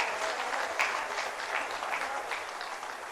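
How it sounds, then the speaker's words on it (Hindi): A crowd at a government benefit distribution event applauds loudly, a dense continuous wash of clapping without voices. "तालियां जोरदार हो।"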